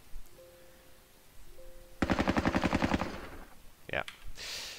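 A rapid burst of automatic gunfire rattles out in the Squad Battles Soviet-Afghan War game, preceded by a steady electronic tone and followed by a short rising whistle and a soft whoosh.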